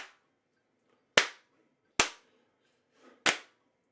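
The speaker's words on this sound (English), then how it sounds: "Let's keep doing some claps and bodily noises." Three hand claps recorded with a single microphone for a song ring out sharp and separate, about a second apart, in a quiet room with short decays.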